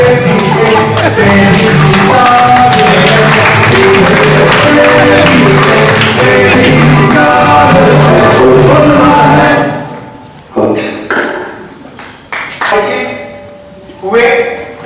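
An audience claps and cheers after a stage drama, dense sustained applause that abruptly cuts to a few scattered sounds and a voice.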